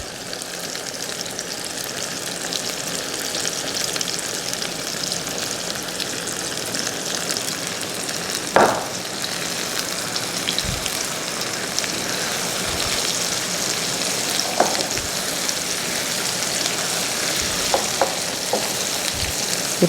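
A continuous loud sizzle of blended chili paste for sambal frying in a hot pan until wilted, with occasional clinks of a utensil stirring.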